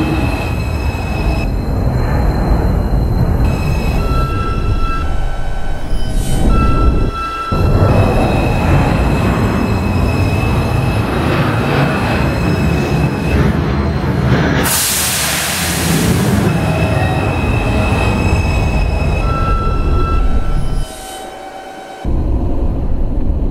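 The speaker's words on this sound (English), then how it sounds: "Attention everyone, there is a train approaching the station. Please stand away from this platform." A Roblox subway train pulls into a station with a loud, continuous rumble of wheels on rails, high squeals and a burst of hiss, close and filling the scene with no talking.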